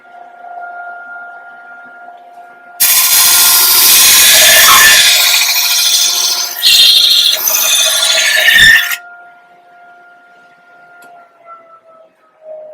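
Power sander running in a custom car shop, starting abruptly and holding a loud, steady hissing whine for about six seconds before cutting off, with a faint tonal hum continuing before and after.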